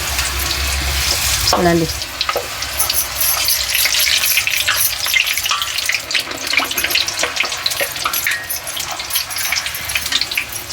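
Masala papad deep frying in hot oil in a home kitchen, a steady bubbling sizzle with a sharp burst as it hits the oil, while someone talks over it.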